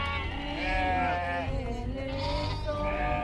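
Sheep bleat repeatedly in a rural farming setting where peasants plough fields and shear sheep, several overlapping wavering calls close by and fairly loud, with no talk.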